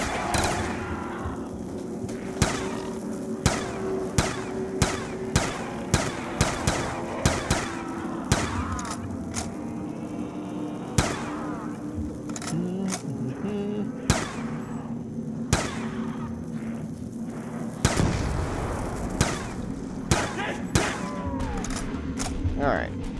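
Cap 40 gunfire in a Black Ops 2 zombies round rings out as sharp, evenly spaced single shots over a steady game soundscape, with a player talking throughout.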